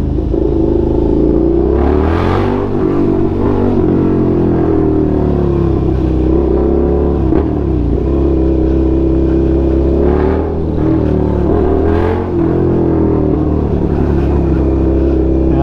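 A Suzuki SV650 motorcycle with a full aftermarket exhaust system rumbles loudly and continuously up close, its deep exhaust note swelling with a few throttle blips.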